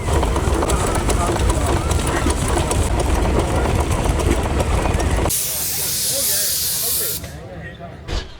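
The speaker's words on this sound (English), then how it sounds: "I am really glad all these traction engines are here because I just love watching them" Steam traction engines at a village show hiss and chug with a loud, steady mechanical rumble, then a bright blast of escaping steam takes over before cutting off, with talking nearby.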